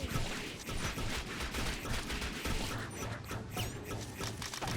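Rockets and missiles fire in the mobile game Line Rangers, a loud, dense barrage of rapid blasts and crackling impacts that continues without pause, with a brief whooshing sweep near the end.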